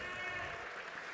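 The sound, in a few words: crowd applause during volleyball roster announcement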